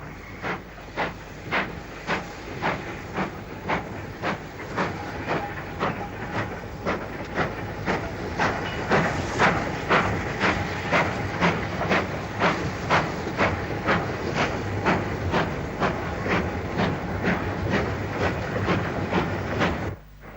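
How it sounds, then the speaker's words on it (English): An LMS Black 5 steam locomotive hauling a coal train near Walsall rolls past steadily, with a loud, continuous rumble and hiss and a regular beat of clicks from the wagons over rail joints. "a Black 5 ambles by with a coal train from Witchnor Junction to Norton Junction near Walsall"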